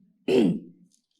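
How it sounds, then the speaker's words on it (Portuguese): One short, raspy throat clearing, close and fairly loud, trailing off into silence. "desculpa, o pigarro"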